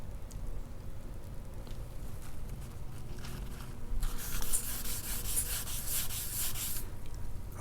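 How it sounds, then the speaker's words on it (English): Sandpaper on a block rubs across a car panel by hand during cut-and-buff prep, a steady close scratchy rasp that grows louder and brighter partway through and continues without talk. "Let me get the block and sandpaper and I'll show you."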